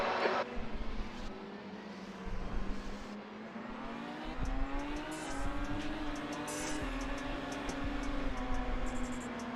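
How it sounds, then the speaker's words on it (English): An LMP2 race car engine at the 24 Hours of Daytona roars steadily at high revs, its pitch rising and falling slightly as it drives past, loud and continuous. "LMP2 sounds so good."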